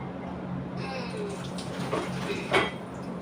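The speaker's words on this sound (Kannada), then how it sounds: "ಬಾಂಡೆ ತಿಕ್ಕಿ" Dishes being scrubbed and rinsed with water at home, a steady wash of running water with a few clinks of utensils, close by and fairly quiet.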